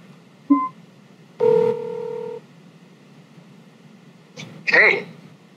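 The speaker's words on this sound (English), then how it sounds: "Of course, you can make a phone call." A phone dials out to place a call, giving a few short keypad tones followed by a longer steady dual-tone beep, then more brief electronic tones, all clear and close against quiet background hiss.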